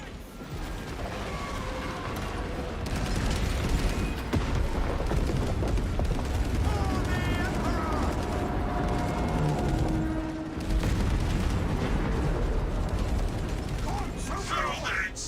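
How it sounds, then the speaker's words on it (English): Explosive charges detonate during a siege battle in a video game, with heavy booms buried in continuous rattling gunfire and mechanical clatter, while voices talk over the din. "Detonate the charges now."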